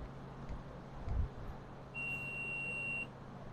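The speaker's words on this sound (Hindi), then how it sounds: "तो मल्टीमीटर को डायोड या बीप के रेंज पर सेट कर लेते हैं।" A multimeter set to diode/continuity range beeps while probing a dead Vivo phone's battery connector for shorts, giving one steady high electronic tone lasting about a second over quiet room hum, preceded by a faint probe clack.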